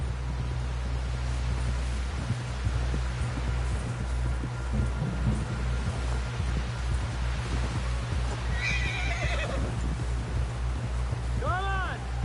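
A horse in the Red Dead Redemption 2 video game whinnies near the end of the clip over a steady clip-clop of hooves and constant outdoor ambience.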